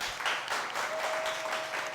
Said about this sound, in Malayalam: ജാനകി ടീച്ചറിന് ഒരു കയ്യടി കൊടുത്തേ